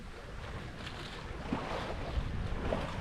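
Soft wash of wind and water around a sailboat under way at about four knots with both sails up in light wind, a quiet continuous hiss with gentle splashes.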